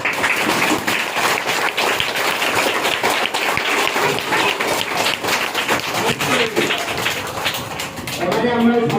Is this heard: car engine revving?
no